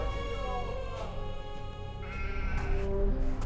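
Sheep bleating in a desert setting, a few wavering calls over a steady musical bed.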